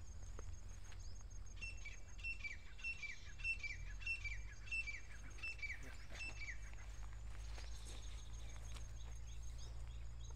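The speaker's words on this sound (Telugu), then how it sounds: "పక్షులు కూడా ఎంత మంచిగా అరుస్తున్నాయి," Birds chirping and singing outdoors, repeated bright calls over a constant low rumble of wind or distant machinery in an open field.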